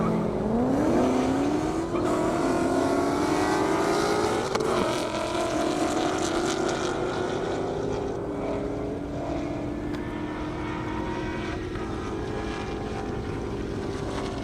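Race cars at a half-mile airstrip speed event scream through the traps at over 150 mph, a loud continuous engine roar with rising harmonic pitch as one car accelerates and passes, steady high-energy noise throughout.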